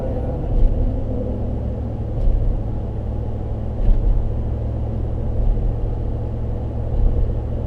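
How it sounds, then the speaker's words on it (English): A passing car's tires hum and whine on bridge grating over a steady low road rumble, the drone swelling and easing a few times. "You can hear the tires singing on that car going by on it."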